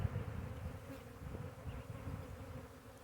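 A honey bee swarm buzzes steadily around a hive, a dense continuous drone of many wings close by, holding an even level throughout with no voices.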